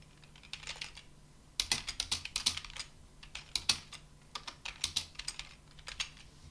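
Bursts of quick, light keystrokes on a computer keyboard while writing HTML code, close and crisp, with short pauses between runs of typing and no voices.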